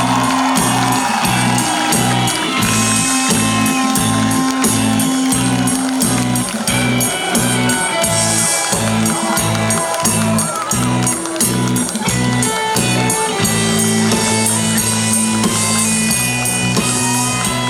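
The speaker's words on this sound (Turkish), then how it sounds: "Alkışlarınız" Crowd cheering and applause greet a basketball team captain arriving with the trophy at a club celebration, a steady loud roar of claps and shouts over thumping amplified music throughout.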